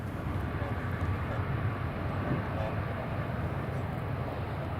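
A Ryanair airliner vacates the runway at Edinburgh Airport, its engines a steady broadband roar at moderate distance, continuous with no clear rise or fall.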